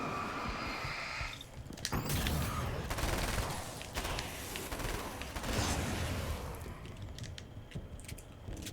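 Rapid bursts of SMG fire crackle in the Alan Wake American Nightmare video game, dense clustered volleys over several seconds with mechanical clatter, no talk over them.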